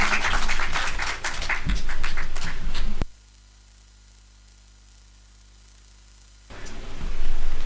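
Applause from an audience at a World Bee Day celebration rises as a hissing wash of claps, cuts to near silence for a few seconds, then swells again.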